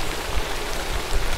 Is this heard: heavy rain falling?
yes